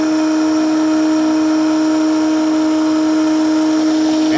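A wood router routes a rafter tail table part in Greene & Greene style, a loud, steady high-pitched whine holding evenly throughout with no talking.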